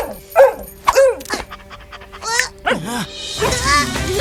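A dog pants in short, close bursts, mixed with little whimpers and yips, in a lively cartoon soundtrack.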